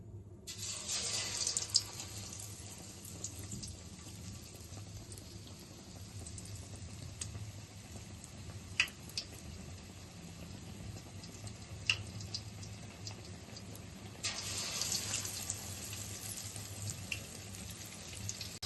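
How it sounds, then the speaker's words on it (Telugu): Battered raw banana bajji frying in hot oil, a soft continuous sizzle with faint bubbling and occasional clicks, quiet and steady with no talking. "ఆయిల్ వేడయింది ఇప్పుడు మనం అట్టకాయ బజ్జీ వేసుకుందాం"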